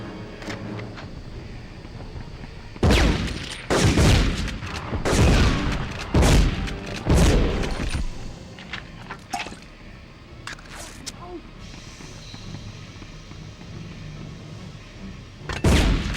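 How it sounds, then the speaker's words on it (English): Heavy explosions in Medal of Honor, the 1999 PS1 shooter, as grenades go off in a dense run of loud booms near the start, with scattered smaller blasts afterward and one last loud burst at the end. "They are grenade spamming now."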